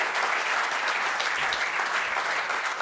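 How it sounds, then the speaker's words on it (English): Conference audience applauding steadily for about three seconds, a dense even wash of clapping with no break. "Has a round of applause first"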